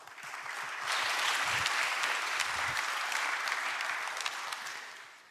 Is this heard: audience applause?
yes